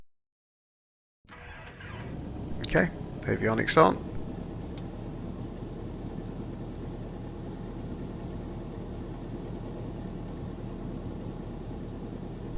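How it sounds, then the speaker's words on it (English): A light single-engine aeroplane engine in the X-Plane 12 flight simulator cranks with a few sharp clatters and then settles into a steady, even drone. Someone speaks briefly over the start. "make sure the master switch is on, and start the engine."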